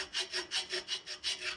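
Hand file rasping on a 1949 Studebaker carburetor part, eight steady back-and-forth strokes in even rhythm, close and moderately loud with no talking.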